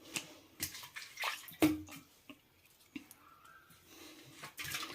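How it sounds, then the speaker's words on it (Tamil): Water being tipped out of a cooking pot in a home kitchen after boiling potatoes for chips, splashing and sloshing in short uneven bursts with a few clinks of the vessel, close by and moderately loud. "இப்போது இந்த தண்ணியை கொட்டிட்டு வந்துடுறேன்."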